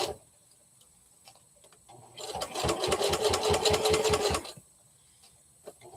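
A Brother sewing machine runs in one steady burst of rapid, rhythmic needle stitching lasting about two seconds, loud and close against a quiet room, with no one talking.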